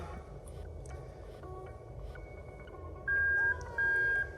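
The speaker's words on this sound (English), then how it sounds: "You can hear that beep." Two steady electronic beeps sound in a row, each lasting about half a second, over a low background hum, from a bridged reverse switch circuit on a Lexus IS200 with a swapped 1UZ-FE V8.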